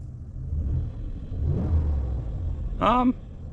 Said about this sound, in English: Let's get a few revs maybe.